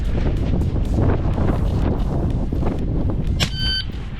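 Strong wind buffets the microphone at an outdoor shooting range, a loud, steady rumbling roar that fills the whole stretch, with a brief electronic beep near the end.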